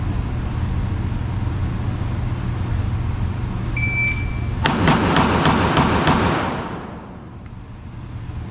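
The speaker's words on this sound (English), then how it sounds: "So those shots were a little bit less than ideal." A burst of gunshots at shooting practice: five or six sharp reports in quick succession, loud and close, over steady background hum, with no talk.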